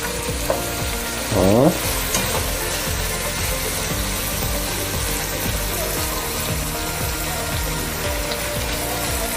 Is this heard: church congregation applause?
no